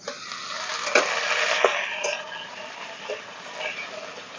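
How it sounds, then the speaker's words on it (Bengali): Chopped onions and boiled taro stolons fry in a pan with a steady close sizzle, broken by a few sharp clicks and scrapes as they are stirred. "পেঁয়াজটা আমি হালকা করে ভেজে নিয়েছি এখন দিয়ে দিচ্ছি সিদ্ধ করা কচুর লতি"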